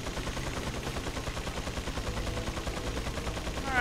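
Rapid automatic gunfire from a Gatling gun in the Resident Evil 4 video game, a dense continuous burst of shots rattling steadily and loudly throughout.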